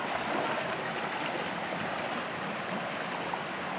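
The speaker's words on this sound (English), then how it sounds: "There's different levels to the fish ladder, so each level has got more water in it flowing through." Water rushing steadily through the stepped pools of a fish ladder, a constant broadband wash of flowing water heard from nearby, even in level throughout with no other sounds.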